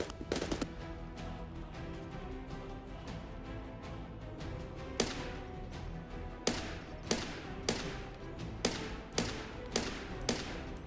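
Gunfire crackles through a video game shooter, with a burst of rapid shots early on and then a series of sharp, evenly spaced reports, like a sniper rifle firing nearby, standing out above steady background noise.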